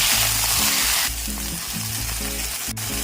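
Marinated beef steak searing in an oiled pan, a loud continuous sizzle that is strongest at first, then settles to a steady crackle with a low hum underneath.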